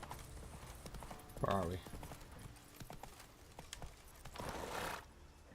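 The horse ridden in the video game The Witcher 3 gallops with rapid clip-clop hoofbeats and gives a short whinny, all beneath a voice talking over the game sounds.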